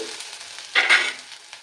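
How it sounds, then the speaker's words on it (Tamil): Potatoes sauté in hot oil in a home kitchen, a steady close sizzle that swells into a louder crackling burst as they are stirred, then settles back to a gentle hiss. "இந்த எண்ணெயிலேயே கொஞ்சம் இந்த உருளைக்கிழங்கையும் வதக்கிக்கலாம்."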